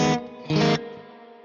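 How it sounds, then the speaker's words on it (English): Two short guitar strums on a Neural DSP Mesa Boogie Mark IIC+ amp sim, each followed by a splashy spring reverb tail that decays over about half a second. "I believe that must be a spring reverb because it sounds like this."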